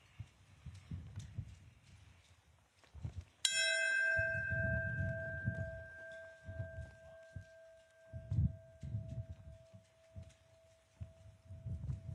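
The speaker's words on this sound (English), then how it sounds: "we'd like to do a tolling of the bells" A single bell strikes clearly at a memorial ceremony for the American Airlines Flight tragedy and rings on with a long fading hum, while low rumbling background noise continues around it.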